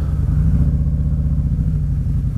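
Motorcycle engine idling with a steady low rumble while the rider works the clutch, close and loud, with no talking over it.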